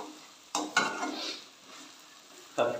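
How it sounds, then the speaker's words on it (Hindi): Aloo palak, a Bihari-style potato and spinach dish, is stirred and fried in a pan, giving soft sizzling with a few scraping stirs, quiet and close. "2 से 3 मिनट के लिए और फ्राई करेंगे।"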